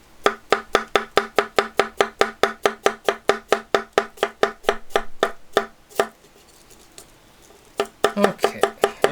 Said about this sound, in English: It doesn't have the weight behind the cutting edge to really go through your vegetables as quickly as you would like it on like a Gyuto or a chef knife.